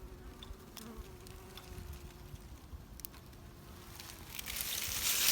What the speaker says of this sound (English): Notice every few bees coming in, bringing some pollen.